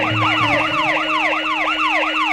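An ambulance siren wails in a loud, close, repeating rising-and-falling sweep, steady throughout with a low engine hum beneath and no voices.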